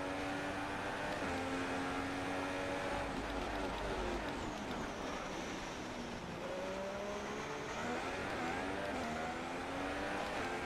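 A Formula 1 car's engine accelerates in the F1 2016 racing game, a continuous loud whine rising through gear changes with other cars' engines blending in around it.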